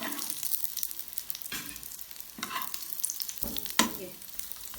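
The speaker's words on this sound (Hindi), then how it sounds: "बिल्कुल मीडियम आंच पे ये पक रहे हैं" Chicken vegetable kababs, browned golden and turned, fry in a pan over medium heat with a steady close sizzle, broken by periodic louder stirring and scraping bursts.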